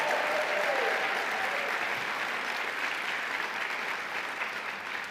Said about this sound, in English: Let's have a big round of applause for every one of them.